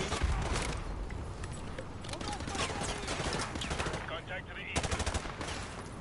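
Rapid gunfire rattles through a Modern Warfare 2 Remastered campaign mission, with dense automatic bursts that run nearly nonstop at close, loud range, along with occasional voices.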